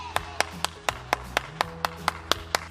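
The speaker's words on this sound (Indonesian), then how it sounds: "Tepuk tangan sekali lagi." Children clap their hands in a steady, evenly spaced rhythm of about a dozen crisp, close claps during an online Sunday school session.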